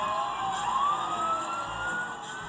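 A fire engine siren wails in rising and falling sweeps, distant and moderately loud over a constant background hum, with no talking.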